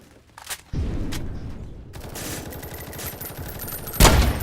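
Dense bursts of rapid gunfire and explosions from the Roblox game War Tycoon, with a tank battle going on, crackling continuously and swelling into a louder blast near the end.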